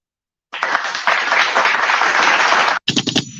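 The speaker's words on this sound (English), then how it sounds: "They're already applauding." A live studio audience breaks into loud, close, sustained applause on a morning show, a dense wall of clapping that cuts off abruptly, then a brief second burst follows.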